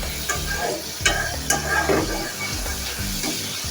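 Spice paste for poa fish sautés loudly in a pan, a dense continuous sizzle broken by sharp spatula scrapes and knocks as it is stirred, no talking.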